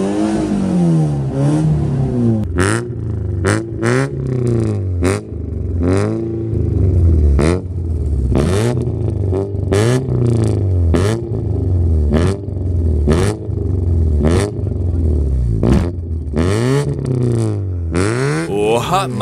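Modified car engine, a first-generation 2009 model, revved repeatedly at a car meet, loud rising and falling blips close by, each followed by sharp exhaust pops and crackles in a steady rhythm.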